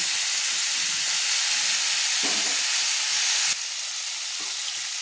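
Yardlong beans fry in oil in an uncovered pan, a constant hissing sizzle with a few soft scrapes and knocks as they are stirred, close and even throughout.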